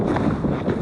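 Outdoor wind buffeting a microphone, a steady loud rumbling roar with gusty surges across the whole short stretch and no voices.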